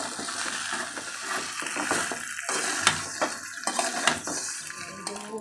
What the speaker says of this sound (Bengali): ভেজে নেবো মাছের মাথাটা।